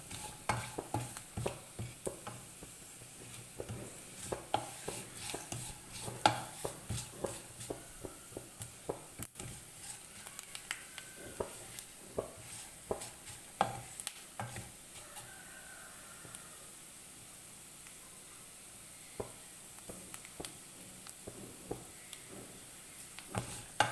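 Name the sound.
coconut pieces and sesame seeds roasting in ghee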